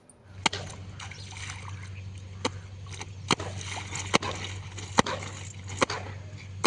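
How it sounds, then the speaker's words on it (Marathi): Clothes are washed in open river water: sharp, regularly spaced slaps and splashes ring out over a low, steady background rumble. "मोकळ्या पाण्यात मस्त कपडे धुता येतात."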